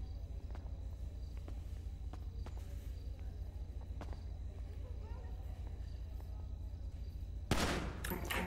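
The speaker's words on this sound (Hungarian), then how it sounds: "Ez mi volt egy lövés?" A gunshot in a video game, a sudden loud sharp burst near the end after a stretch of quieter clicking and stepping sounds over a low steady hum.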